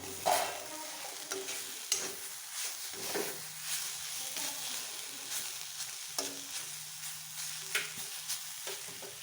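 A spatula stirs green chickpea leaf sabzi in a pan in a series of scraping, clattering strokes over a soft, low sizzle. The sound is close and intermittent, with no talking.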